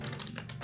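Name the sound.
typing a MySQL query on a computer keyboard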